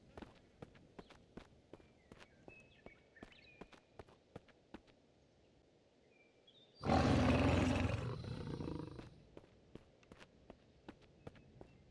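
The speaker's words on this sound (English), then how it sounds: "Roar." Among steady, regular footstep taps, a creature in the video game The Redress of Mira lets out one loud, rough roar lasting about two seconds, which then tails off into a quieter rumble.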